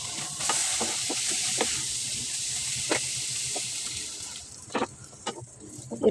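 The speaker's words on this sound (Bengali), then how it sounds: "শাকও দিয়ে দিলাম, নেড়ে চেড়ে মিশিয়ে দিচ্ছি।" Malabar spinach being stirred into a simmering shrimp curry in a pan: a constant soft sizzle and bubbling hiss with scattered scraping and clinking spatula strokes, louder toward the end.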